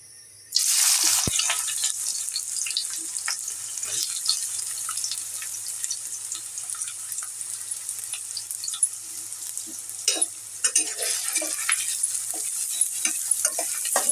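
Chopped onions hit hot oil in a pan, cooked for Bengali mustard hilsa, and frying begins with a sudden loud sizzle that holds steady, with occasional stirring scrapes and spatter, no talking.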